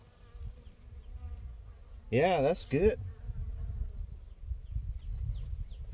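Honey bees around a hive frame during a first honey harvest let out one short, close buzzing burst over steady outdoor background noise, and a person speaks briefly.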